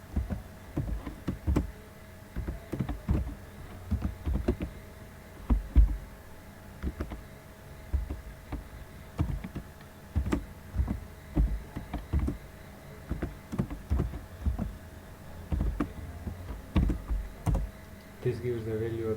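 Keys clack on a computer keyboard while an expression is typed into MATLAB, quiet irregular bursts of taps in quick runs separated by brief pauses, fairly close and steady.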